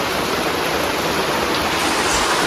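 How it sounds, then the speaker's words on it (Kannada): Steady, loud rain pours down in an unbroken wash of hiss with no voices, filling the whole stretch evenly. "ಮಳೆ ಬಂತು, ಮಳೆ ನೋಡ್ಬೋದು ಈಗ."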